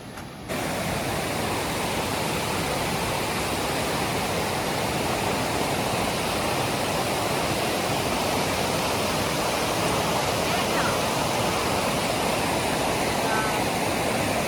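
The Vadattupara waterfall in Kerala roars steadily and loudly from start to finish, a dense unbroken rush of falling water with no other sounds standing out.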